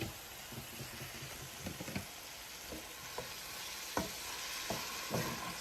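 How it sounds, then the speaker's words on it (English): Chicken sautéing in a pan, a steady close sizzle with scattered scraping and stirring clicks throughout, no talking. "you're just sauteing"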